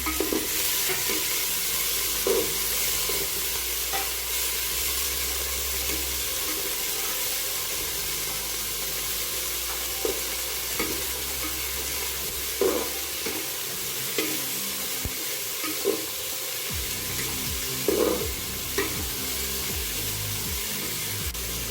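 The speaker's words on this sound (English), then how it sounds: "Fry it for a minute." Rice frying in a pan with capsicum, salt, cashews and raisins for Bengali fried rice, a steady close sizzle punctuated by occasional scraping stirs of a spatula.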